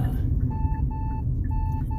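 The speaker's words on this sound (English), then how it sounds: "Why is my alarm going off?" A phone alarm beeps in steady repeating pulses, a pattern of short tones with brief gaps, heard over loud low rumbling background noise as if outdoors or in a car.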